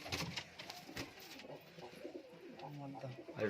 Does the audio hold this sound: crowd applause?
no